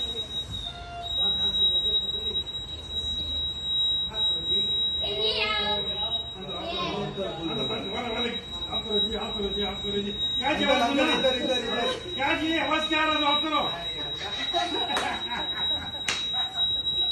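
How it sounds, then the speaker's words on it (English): An indoor fire alarm sounds continuously as a steady high-pitched electronic tone throughout, while children and adults talk and shout loudly over it. "Is this a fire alarm?"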